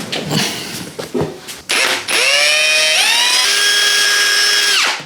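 A power drill whirs loudly, spinning up with rising pitch, holding a steady high whine, then winding down after a few short bursts of clatter.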